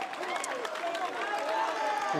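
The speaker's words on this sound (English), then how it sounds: "Now the crowd's getting loud." A crowd at an NCAA men's tennis team final cheers and applauds steadily, a loud continuous roar with a commentator speaking over it.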